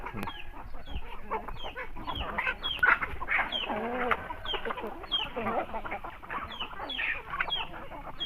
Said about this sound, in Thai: จะให้ชื่อว่าเอาไก่มาเลี้ยงแล้ว คุณภาพชีวิตไก่ก็จะดีขึ้นนะครับ